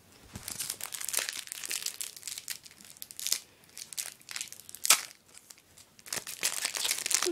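A plastic foil pack of Euro 2012 trading cards is torn open and handled up close, giving bursts of crinkling and crackling with sharp tearing snaps.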